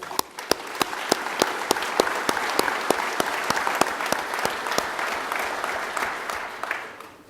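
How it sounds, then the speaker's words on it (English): An audience claps steadily, a dense wash of applause with a few sharp, close claps standing out, holding for several seconds before thinning at the end. "I think this deserves a round of applause."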